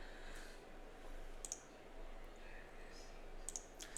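A computer mouse gives two pairs of quick, faint clicks about two seconds apart against a low hum of room noise.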